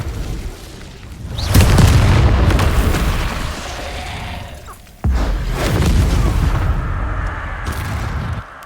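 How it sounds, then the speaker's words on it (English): Incendio fire spells cast in the video game Hogwarts Legacy, two loud booming bursts of flame about three seconds apart, each roaring on and fading slowly. "Incendio!"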